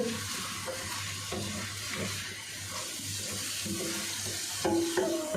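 Tomato paste frying with browned onion in a clay pot for a potato and egg curry, with a steady close sizzle and repeated scraping stirs throughout, no talking.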